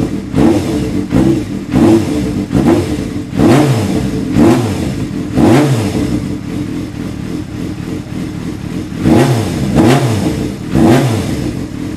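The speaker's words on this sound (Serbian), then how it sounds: "da ga upalimo, da čujemo kako se čuje ova Yamaha" A Yamaha motorcycle engine is started and blipped repeatedly, giving loud, close revs that rise and fall in quick bursts over a rough idle, with a pause and then another cluster of throttle blips.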